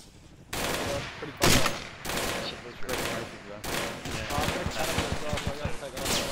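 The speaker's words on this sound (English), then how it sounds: "Guys, watch out, there's an HMG." Heavy machine gun fire from the video game ArmA II: several loud separate bursts, then a fast run of rapid shots near the end, all close and harsh.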